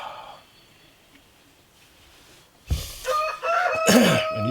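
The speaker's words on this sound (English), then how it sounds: "Watching the chickens" Backyard chickens scratching at the ground in windy Alaska make a close burst of clucking and squawking calls that starts suddenly after a few quiet seconds and keeps going.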